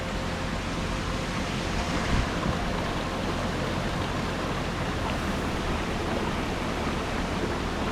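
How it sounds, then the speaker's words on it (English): Big Rock waterfall in Marin County, California, pouring in a steady, dense roar of rushing water, loud and continuous, close by and with no voices over it. "We're thinking this is the main waterfall"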